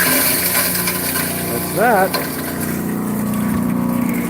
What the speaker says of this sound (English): Hammer mill on